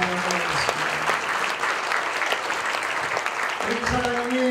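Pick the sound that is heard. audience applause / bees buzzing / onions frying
audience applause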